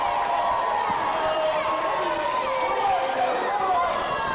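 Wrestling crowd at a live independent pro wrestling show cheering and chattering continuously at a steady, fairly loud level, with a commentator talking over the noise.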